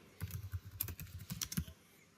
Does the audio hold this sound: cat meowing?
no